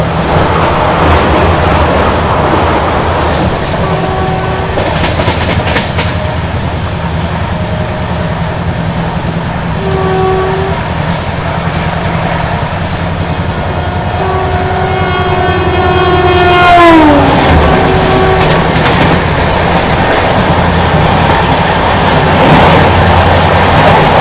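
A Rajdhani Express train rolls along the rails with a continuous loud rumble and clatter, and a horn sounds in short tones with a longer falling blast near the end.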